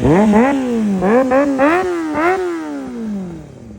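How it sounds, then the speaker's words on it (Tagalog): A Kawasaki Ninja ZX6R 636cc motorcycle engine revs hard and close, with about five quick rising throttle blips in a row followed by a longer climbing rev that eases off. "Guys, ito nga pala ang Kawasaki 636 cc na ZX6R."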